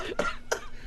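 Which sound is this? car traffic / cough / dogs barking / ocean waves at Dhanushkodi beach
cough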